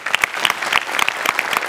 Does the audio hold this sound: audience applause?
yes